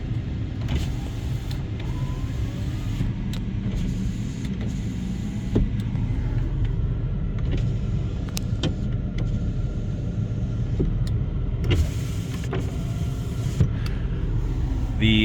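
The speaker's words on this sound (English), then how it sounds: "All the power windows work." Power windows on a 2012 Ford F550 6.7 Powerstroke 4x4 crew cab truck run continuously over a steady low cabin rumble, with small clicks and thumps from the motors, close and fairly loud.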